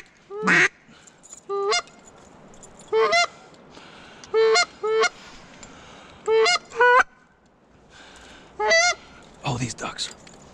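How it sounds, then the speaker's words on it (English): Canada geese honking out in the open during a waterfowl hunt, a series of sharp repeated honk bursts in loose groups, fairly loud and carrying, with a louder flapping or rustling burst near the end. "those honkers are shootable if they would fly over us"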